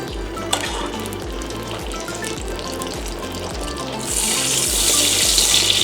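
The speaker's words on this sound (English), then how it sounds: "You can see the fish is simmering so nicely." Tilapia fillets simmer in melting butter in a frying pan, a steady crackling sizzle with a faint rhythmic low thumping beneath, the frying growing louder and brighter near the end.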